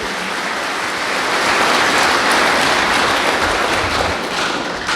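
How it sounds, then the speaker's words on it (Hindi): A seated audience at a police battalion session applauds, a loud, dense and continuous spatter of clapping that swells in the middle and carries on steadily without voices. "तालियां बजाएं मैडम के लिए"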